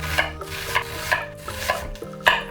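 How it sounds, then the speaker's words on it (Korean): Half an onion being finely chopped with a knife on a cutting board: a quick, fairly regular series of close, crisp taps, about eight strokes, with no talking. "양파 반 개를 잘게 잘라주세요."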